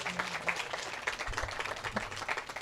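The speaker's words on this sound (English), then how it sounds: "let's applaud them first" An audience at a school event gives a modest round of applause, clapping that sounds scattered and fairly quiet, lasting a couple of seconds with a few louder individual claps.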